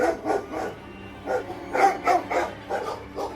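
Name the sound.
dogs barking wildly, horror story sound effect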